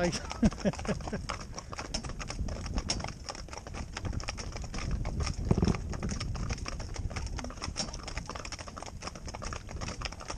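Steady clip-clop of ponies' hooves in a quick, even rhythm throughout, from a mixed four-in-hand of young green ponies, with faint bird calls in the background.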